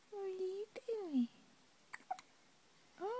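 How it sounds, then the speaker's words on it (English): A baby hiccups a few times, each a short, sharp catch, scattered between soft babbling and cooing from the infant. "You got hiccups."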